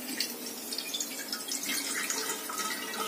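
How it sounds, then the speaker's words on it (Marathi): Washed poha drains in a sieve, water trickling and dripping steadily in fine splashy patter throughout, close and quiet with no talking. "आता हे आपण चाळणीमध्ये गळत ठेवूया"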